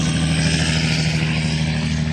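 Truck engines idle at a truck stop in Boardman, Oregon, a loud, steady low diesel rumble that fills the whole stretch without a break.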